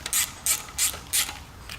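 A ratchet turning a wobble socket snugs an oil pan nut during an LS swap into a 1960 Chevy Biscayne with an F-body pan: four quick bursts of close, crisp clicking, each separated by a short pause.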